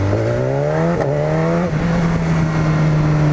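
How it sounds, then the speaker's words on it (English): A BMW S1000RR sport motorcycle accelerating hard through gears with a quick shifter, engine rising in pitch, a brief cut at each rapid upshift, then settling into a steady high drone, close and loud. "ready for some quick shifter action"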